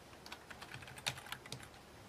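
Soft, quick keystrokes on a computer keyboard click in an uneven patter while a spreadsheet is edited. One slightly firmer tap near the middle marks the Enter key. The sound is faint and close, with no voices.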